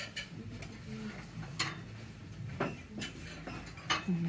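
Glass plates clink and knock a few times as they are handled at an antiques market, with sharp brief contacts over a busy room background.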